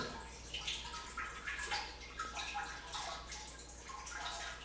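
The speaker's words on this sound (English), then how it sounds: "this is allowing water to drain" Water drains and trickles from a laboratory column, a steady soft splashing and dripping that runs continuously, fairly faint and close by.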